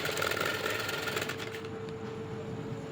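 Sewing machine top-stitching a silk saree border design, a close, rapid mechanical whirring chatter that is loudest at first and eases slightly, continuing to the end.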